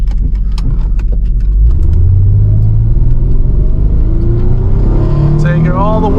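An automatic Nissan 300ZX Z32 pulls hard from a drop, its engine rumbling loud and close as the revs climb in rising sweeps, with voices talking over it from inside the car.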